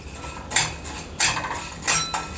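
Urad dal is tipped into a pan for dry roasting, making three sharp scraping clatters against the metal at regular intervals, fairly loud and close with no speech.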